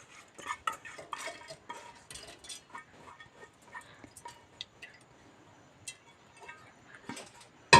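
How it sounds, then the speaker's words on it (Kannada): Soaked rice goes into a mixer jar in a home kitchen, heard as a loose run of small clicks, taps and scrapes of grains and a spoon against the jar, fairly quiet with short gaps, ending on a sharper knock. "ನಾನು ನೆನೆ ಹಾಕ್ಕೊಂಡಿರೋ ಅಕ್ಕಿನ ಹಾಕ್ಕೊಳ್ತಾ ಇದ್ದೀನಿ ಮಿಕ್ಸಿ ಜಾರಿಗೆ."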